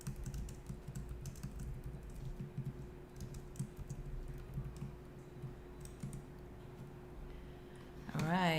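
Steady, quiet typing on a computer keyboard, a continuous patter of light key clicks at an even pace throughout, with a louder burst of noise right at the end.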